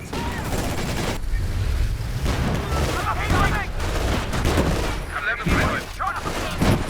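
Battle in the strategy game Company of Heroes 2 rumbles with grenade explosions and gunfire, a dense, loud wash of booms and crackling shots throughout, with someone talking over part of it.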